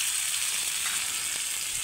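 Chopped tomato and green chilli sizzling in hot oil in a pan while being stirred, a steady close crackling hiss with no talk.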